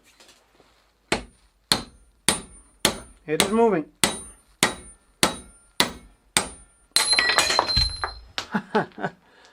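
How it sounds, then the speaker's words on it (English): Repeated sharp metal hammer blows on a bicycle frame's bottom bracket at a steady rhythm, close and loud, with a brief ringing clatter and a voice speaking once partway through. "I will try to hammer this out"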